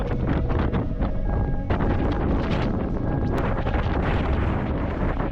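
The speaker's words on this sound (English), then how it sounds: "It's gotta be gusting 50 miles per hour out here." Strong wind gusting around fifty miles per hour in an outdoor blizzard roars and buffets the microphone, a loud continuous rumble with sharp gust surges and no talking.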